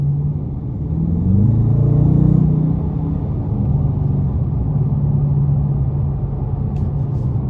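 A 2021 Dodge Challenger R/T Plus engine rumbles low and steady from inside the cabin as the driver adds throttle onto the interstate, swelling briefly before settling into a continuous drone.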